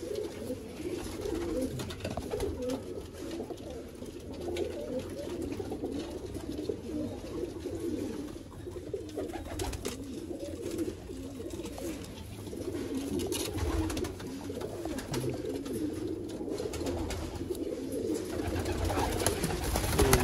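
Rare Sialkoti 'chuhe' pigeons coo steadily and continuously, many birds overlapping in a low murmuring chorus with no pause, at a moderate level throughout.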